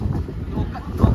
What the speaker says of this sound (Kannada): ಮೊಬೈಲ್ ಶೇಕ್ ಆಗ್ತಿದೆ, ಅಷ್ಟು ಗಾಳಿ ಇದೆ ನೋಡಿ. ಇಲ್ಲಿ ನೋಡಿ ಗಾಳಿ ಯಾವ ರೇಂಜ್ ಇದೆ.